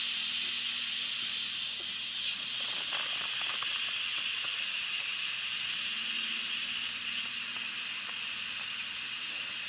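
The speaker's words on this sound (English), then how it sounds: "Okay, it's time to let out the steam." Steady, loud hiss of steam venting from an Instant Pot pressure cooker after cooking Salisbury steak, a continuous rushing jet that holds nearly unchanged for about ten seconds with no talk over it.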